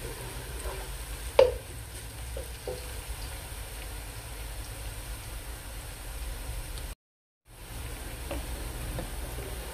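Food sizzling as it browns in a frying pan, a steady close hiss with a sharp clink near the start and a brief dropout partway through.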